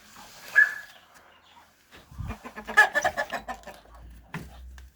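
A young cockerel with clipped wings clucks in a run of short, close calls after an early single squawk, with a few low thumps and brief rustling between them.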